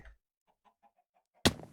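Chickens in Minecraft give a few soft, short clucks spaced through the moment, followed by a sudden louder burst near the end.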